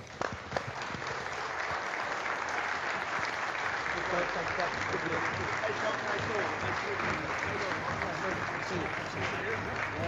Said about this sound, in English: So how about a big round of applause? Let's bring on Coach Scott Satterfield.